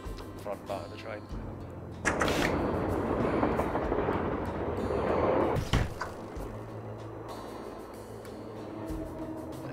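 Rumbling train carriage noise from the Nancy Drew: Last Train To Blue Moon Canyon video game, a steady loud roar swelling in the middle amid softer ambient clatter, with a sharp thump near the end.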